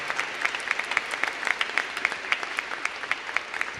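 A Catholic Sunday Mass congregation gives a round of applause after the Gospel reading, dense continuous clapping with regular accented beats, filling the room evenly from start to finish.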